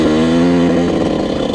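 A Yamaha YZ 125 two-stroke dirt bike engine revs loud and close, a buzzing, harmonic-rich whine that holds high and then wavers and drops slightly, heard alone without talk.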